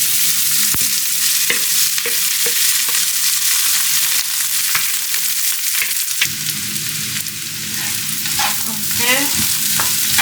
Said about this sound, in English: let's just go and add it in the fry pan